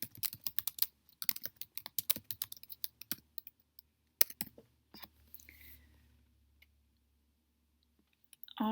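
Quick bursts of computer keyboard typing with a triple mouse click while entering a spreadsheet chart title, close and clear, then fading to near silence before a final click.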